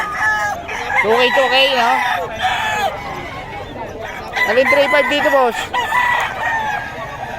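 Chickens and roosters at a busy fowl market in Bocaue, several birds crowing loudly and repeatedly close by, with clucking and people talking among them.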